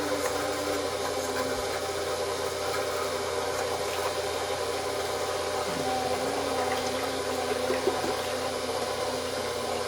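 Electric stand mixer churning bagel dough after water is added, a constant motor hum with a steady rubbing, sloshing drone that stays even and close for about ten seconds.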